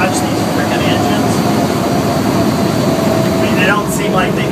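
The engines of a B-17 bomber, the Yankee Lady at Willow Run, Michigan, drone in a loud, steady roar heard close from inside the plane just after landing, with voices talking over it.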